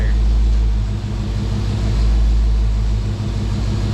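A 5.7 Hemi V8 idles steadily in a garage after a fresh Royal Purple oil change, giving a loud, continuous low rumble with a faint pulsing throb and no speech.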